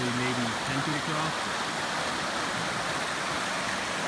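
Floodwater from a swollen river, grown to about 30 feet across, rushes beneath a bridge in a steady, dense roar that fills the whole clip, with a brief voice murmuring near the start.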